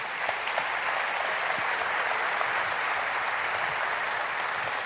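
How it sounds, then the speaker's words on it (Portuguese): A church congregation at a worship service at PIB Curitiba applauds in a continuous, dense roar of many hands. The sound is full and steady from start to finish, with no voices standing out. "E pode aplaudir ao Senhor."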